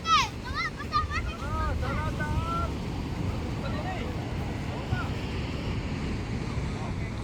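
Rough sea surf breaks and rushes steadily near fishing boats hauled up on shore, with gusty wind noise, while people chatter and call out over the water through the first few seconds.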